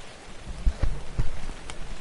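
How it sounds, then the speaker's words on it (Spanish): Rain falling in the survival video game Ark: Survival Evolved, a steady patter with scattered louder drops hitting a surface, heard alone and fairly close. "fui al lago y ya está lloviendo"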